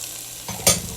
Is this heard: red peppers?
yes